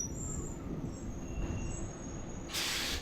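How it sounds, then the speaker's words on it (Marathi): A diesel passenger train stands at a level crossing on the Beed to Ahilyanagar line, giving a steady low rumble and hiss, with a thin squeal and a burst of brighter hissing near the end. "हे बघा आता ट्रेन थांबली"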